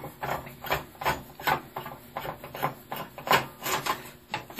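Heatsink screws being unscrewed on a Dell Optiplex desktop computer, close rhythmic ratcheting clicks and scraping of a screwdriver, steady and moderately loud.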